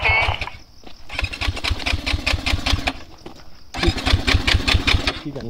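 A motorbike engine cranks and starts, then idles with a rough, rhythmic chugging close by, pausing briefly before catching again and running steadily.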